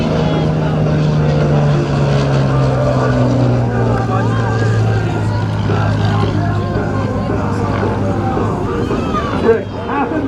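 An Italian-built SIAI-Marchetti SF-260 propeller aircraft flies a pass at the Geneseo air show, its engine droning loud and steady with a slowly falling pitch as it goes by, with an announcer talking over it.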